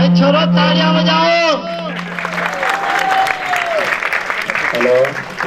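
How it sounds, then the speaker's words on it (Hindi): Students clap at a boys' high school farewell party, with crowd clapping and chatter building after a brief opening of amplified voice and music. Voices carry over the steady applause throughout. "छोरो तालियां बजाओ।"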